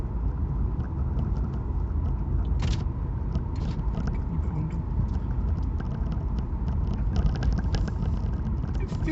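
A Nissan Leaf electric car on the move gives a steady low road and tyre rumble heard from inside the cabin, with occasional faint scrapes and no engine note.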